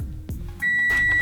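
Oven timer set for 20 minutes sounds a short electronic beep, a sustained steady tone that starts partway through and holds to the end, close and clear, no talk.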